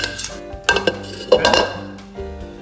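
Chicken spaghetti mixture poured into a pan, with loud clanks and scrapes of a utensil and dish against the pan, sloppy wet shifting between the hits, close and brief, no speech.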